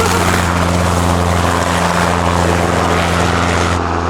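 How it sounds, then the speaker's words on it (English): A helicopter flying overhead during a bike ride back to a hotel, a steady loud rotor drone with low thudding harmonics held throughout, close by and continuous, with no talk over it. "I wouldn't have seen the chopper"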